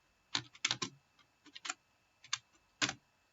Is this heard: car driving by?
no